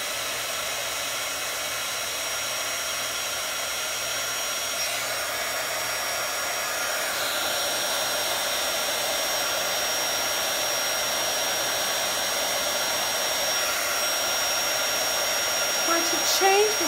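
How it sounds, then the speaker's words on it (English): Heat gun blowing hot air over a panda party craft project, a loud, steady whooshing roar that runs unbroken throughout, with a brief handling noise near the end. "now we're going to take our heat gun, our heat tool, and we're going to heat it up"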